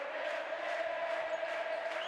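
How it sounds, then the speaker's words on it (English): A raucous home crowd of supporters at an IACC basketball game in Cordoba, in the Basketball Champions League Americas, roars in a steady, dense mass of cheering that carries on unbroken. "in front of their home crowd, a raucous crowd of supporters in Cordoba"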